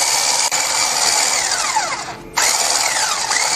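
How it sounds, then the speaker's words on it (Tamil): Electric hand mixer beating butter for a sponge cake, a loud steady whir that drops briefly in pitch and load partway through before surging back up to full speed. "இந்த பட்டரை பீட் பண்ணணும்."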